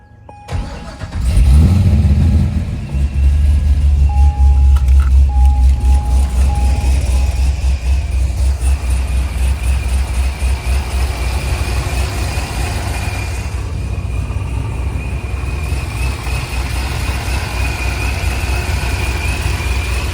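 A supercharged Corvette engine starts up and runs loud and close, holding a steady rumble with a thin supercharger whine riding on top, easing slightly toward the end.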